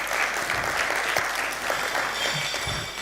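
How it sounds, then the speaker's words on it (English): A conference audience claps for itself, producing a short, continuous burst of crowded applause at moderate volume, dense and even throughout with no speech on top. "Clap yourselves."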